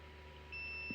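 A steady high multimeter continuity beep, testing a diode in a Sonos Sub Gen 1 subwoofer, starts halfway through and holds over a low background hum, quiet and close.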